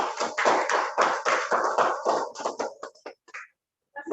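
Scattered bursts of clapping come through a Zoom call at an inauguration ceremony for a university research centre, uneven and clipped, thinning out into a few isolated claps and a short silence.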